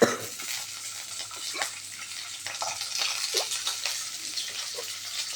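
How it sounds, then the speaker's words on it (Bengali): Broad beans frying in hot oil, a dense continuous sizzle with occasional spatula scrapes, close and steady throughout. "এবার শিমগুলো তেলটা একটু গরম হলে এর মধ্যে ছেড়ে দেবো।"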